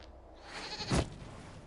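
A goat bleats once in Dragon Age: Inquisition, a short nasal cry near the middle of a quiet in-game ambience, fairly close and moderately loud.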